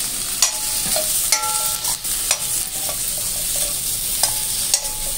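Cashew curry being stir-fried in a kadhai with onion, a steady sizzling hiss broken by repeated scraping and clinking strokes of a spatula against the pan, close and alone with no talk.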